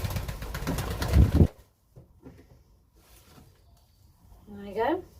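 A blue-pied pigeon cock coos once near the end, a short close rolling call after a loud burst of handling noise and a few faint knocks, with someone talking nearby.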